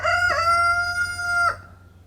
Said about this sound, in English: Rooster crowing again.